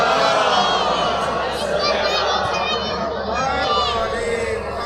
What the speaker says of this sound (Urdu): صلوات پڑھو مل کے بابا سے بلند۔